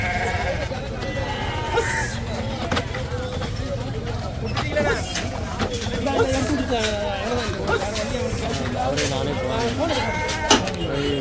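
Goats and young kids bleat repeatedly at a busy goat market in Ettayapuram, Thoothukudi district, their overlapping cries mixing with crowd chatter and nearby talking voices.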